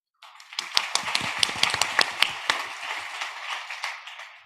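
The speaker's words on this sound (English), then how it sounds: "Could you please give them all a round of applause?" An audience at the Bloomberg Asia Wealth Summit applauds the panelists, beginning with sharp, distinct claps that quickly merge into a steady wave of clapping before tapering off, with no talking.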